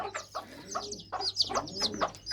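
A hen clucks softly in short repeated calls while feeding her eight chicks, close by, with faint high chick chirps mixed in.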